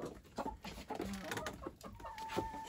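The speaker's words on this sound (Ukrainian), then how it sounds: "Ну, квокче вона, квокче." A broody hen clucks in a barnyard, a run of short, low, close clucks repeated steadily with faint background sounds.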